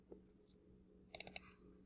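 Computer mouse buttons click four times in a quick, close cluster, crisp and fairly sharp, with near silence before and after.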